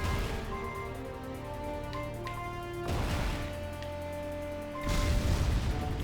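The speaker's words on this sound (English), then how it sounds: "Oh, nice. Explosion." Explosions and impacts in the shoot-'em-up video game Jamestown+ on Nintendo Switch, steady loud layered blasts over a constant musical bed, with heavier bursts near the middle and end.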